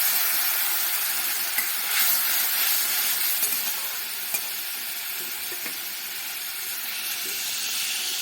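Hot water poured onto turmeric in a hot cooking pan sets off a steady, fairly faint hissing sizzle that carries on evenly throughout, with no voices.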